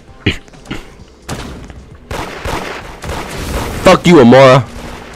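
Gunfire in a Roblox-style street game set at Christmas, a few sharp shots early, then a dense burst of rapid fire, with a voice shouting over the noise.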